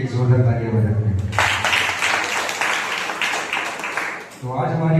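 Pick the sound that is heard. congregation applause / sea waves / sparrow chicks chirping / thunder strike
congregation applause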